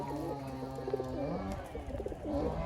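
Pigeons in a backyard pigeon loft coo softly and repeatedly, their low throaty calls overlapping at close range in a fairly quiet space.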